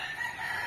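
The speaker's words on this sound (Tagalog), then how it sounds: "Ay, yan yung mga manok." Chickens on a backyard farm where ducks are also kept, a short burst of clucking and crowing calls, fairly close and steady, with no talking.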